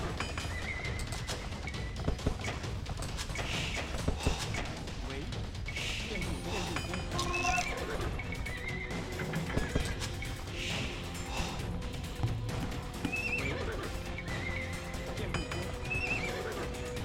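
Horses whinnying and hooves clopping amid battle clashes in the Age of Empires 2 HD real-time strategy game on the Black Forest map, a dense, steady game soundscape with neighs recurring over the din.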